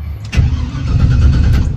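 A turbo GMC Sierra engine cranks without catching, a loud rapid starter churn that begins after a brief click and runs on steadily without firing, close to the microphone.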